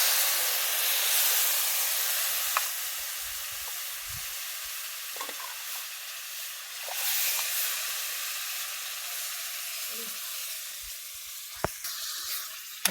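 Water poured into a pan of roasted semolina for suji halwa hisses and sizzles loudly, then the steaming fades into a softer, steady simmer with occasional stirring clinks and scrapes.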